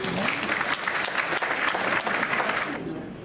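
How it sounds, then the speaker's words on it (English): A crowd claps enthusiastically during a game show on the P&O Iona cruise ship at sea, a dense burst of applause that holds steady before fading near the end, with faint voices mixed in. "Give a round of applause."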